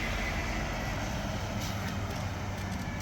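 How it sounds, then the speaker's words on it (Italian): Urban traffic on the outskirts of Orense forms a faint, continuous rumble of passing vehicles, with heavy trucks or buses blending into a distant, steady wash of road noise. "ci sentiamo assaliti dai frastuoni e dal traffico della periferia urbana"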